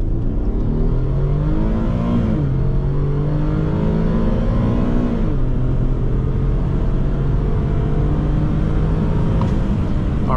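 A 2017 Infiniti QX50 with the 3.7 engine launching hard from 0 to 60 mph, a loud continuous engine drone rising in pitch through the revs with a brief dip at each upshift, close and without talk.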